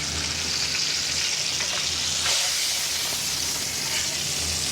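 Meat sizzles loudly in hot oil, a continuous crackling hiss with occasional bursts of spitting, close up.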